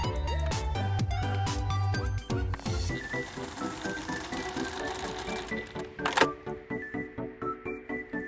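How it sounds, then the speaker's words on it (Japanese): A sewing machine stitches joined fabric scraps for a shoulder strap, a fast rattling run of needle strokes that slows into separate clacking stitches before stopping, loud and close with no talking. "縫い代1センチで縫います。"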